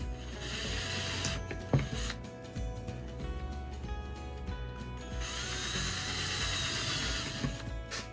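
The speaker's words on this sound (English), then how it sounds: "I use a tiny drill bit here." Power drill boring into a mason jar lid with a tiny drill bit, in bursts of high whirring with a short click and a pause between runs, fairly close.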